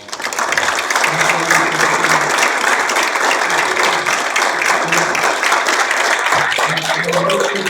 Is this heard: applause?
yes